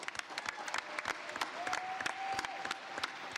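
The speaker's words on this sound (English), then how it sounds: "Let's give her a round of applause" Applause from the audience at a boxing press conference in Detroit, ahead of Claressa Shields vs. Lani Daniels, steady crisp clapping throughout at moderate distance, with a faint tone in the room behind it.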